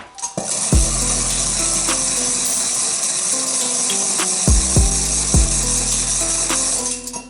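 An old hand-cranked rotary egg beater whisks eggs in a bowl, giving a steady rattling, ratchet-like mechanical whir with a few sharp clanks against the bowl, close and fairly loud throughout.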